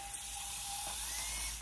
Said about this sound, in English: I love this sweater shaver.